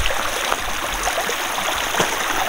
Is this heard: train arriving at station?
no